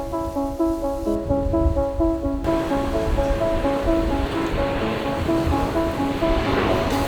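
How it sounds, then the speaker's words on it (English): Strong wind roars by the sea with crashing surf, a steady broadband rush, and sustained tonal hums running through it. "It's pretty windy and stormy today"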